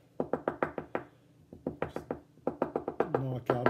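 Tobacco pipe rapped against a hard surface to knock loose debris out of the bowl, a quick run of sharp knocks in short bursts, with a voice speaking near the end.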